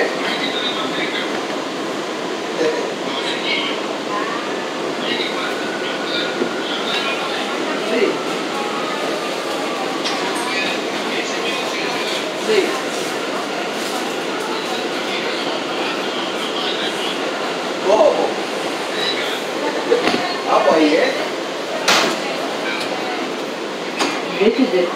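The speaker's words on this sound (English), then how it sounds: "Queensbound J local train." An R179 J subway train runs between stations, heard from the rear window as a steady, loud rumble of wheels on rail with occasional squeals and clatter, and an onboard announcement voice partly audible over it.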